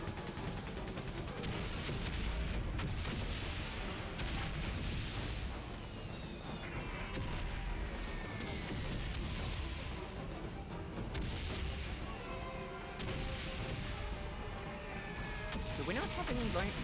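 Mortar and artillery fire from the Great War video game Valiant Hearts thuds and crashes in repeated booms and bursts over a rumbling battlefield, mid-distance and steady, with someone talking over much of it.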